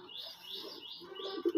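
Desi red pigeons on a pigeon farm give soft, low coos near the end, while higher bird chirps repeat above them in a quiet setting.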